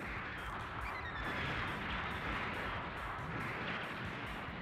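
Torpedoes fire in the video game Mobile Suit Gundam Federation vs. Zeon amid a dense, continuous roar of game explosions and booming, loud and unbroken throughout.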